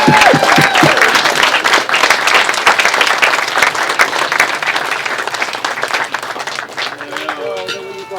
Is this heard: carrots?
no